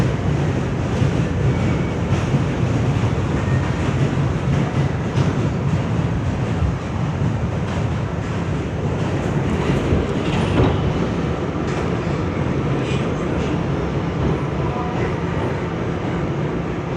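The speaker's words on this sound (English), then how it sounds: "This is a Manhattan-bound F local train" Onboard rumble of an R211 F subway train running between stations, a loud continuous roar of wheels and motors with faint rail clatter throughout.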